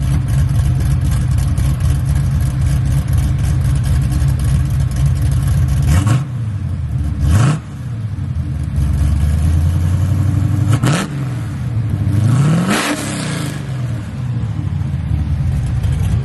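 An Oldsmobile Cutlass with a new Flowmaster FX exhaust idles with a deep, loud burble, then gets several sharp revs that climb and fall back, close to the listener.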